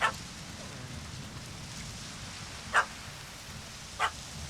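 A dog barks in The Witcher 3: Hearts of Stone, three short, sharp, separated barks over a low outdoor background.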